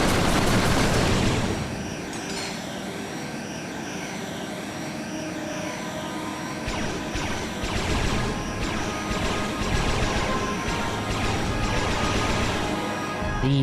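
Laser cannon firing in the video game Ratchet & Clank: A Crack In Time, a loud continuous roaring blast with sweeping tonal whines and crashing bursts, sustained throughout.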